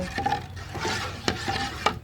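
Corn pudding (sweet corn stirred without flour) is stirred in a pot over medium heat, a utensil scraping and thudding in repeated strokes with a few sharper knocks against the pot, up close with no talking.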